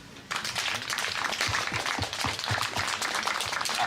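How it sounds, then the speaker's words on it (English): An audience at a medical school launch claps together, a steady, dense wash of many hands with a few sharper, nearer claps standing out in an irregular rhythm throughout. "Can we clap together for them, please?"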